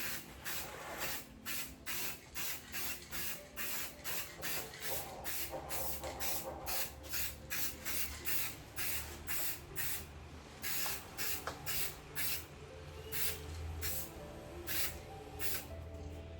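Short bursts of spray paint hiss onto a painted candy can for another coat, a close rapid run of quick pumps, some in tight clusters, pausing briefly between passes.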